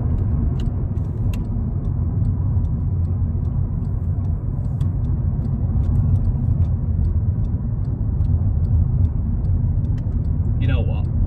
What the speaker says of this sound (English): Now I'm going 40 and it's driving as normal.